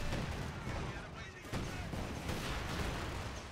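A grenade blast in a World War II game set during the encirclement of the German 6th Army at Stalingrad, heard as a dense, loud burst of battle noise with a sharp hit midway, over constant gunfire and rumble.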